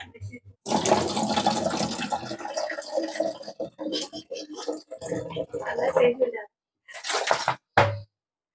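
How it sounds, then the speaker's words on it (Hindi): Water is poured into a bottle of cold drink, making uneven gurgling and splashing bursts with short pauses, while a person talks alongside. "इसमें हम भरेंगे थोड़ा सा पानी"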